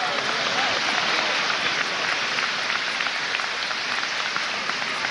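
Audience clapping at a lecture hall gathering, a continuous even roar of many hands applauding, moderately loud and unbroken for the whole stretch.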